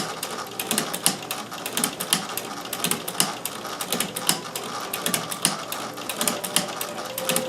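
Singer 201K sewing machine running steadily with a hemstitcher attachment, a fast, even mechanical clatter of needle strokes with rhythmic ticking beats, close and continuous.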